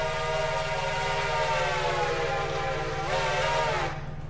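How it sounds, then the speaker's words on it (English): Train whistle signal in a railroad video game: a sustained, harmonic horn blast held for about four seconds, with a brief swell in pitch near the end before it cuts off, heard alone over a steady low engine hum. "So the whistle signal I'm about to do is the exact one I did on Big Road."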